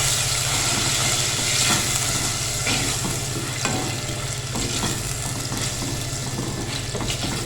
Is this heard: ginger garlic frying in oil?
yes